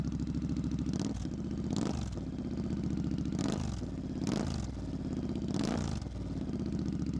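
A motorcycle fitted with aftermarket exhaust pipes, started cold, idles with a loud steady throb and is blipped four or five times, each short rev rising sharply and dropping back to idle, close by and alone.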